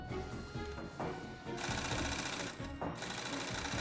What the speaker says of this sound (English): The pieces are stitched together using tough nylon thread.